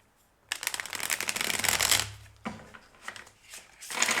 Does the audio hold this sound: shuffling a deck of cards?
yes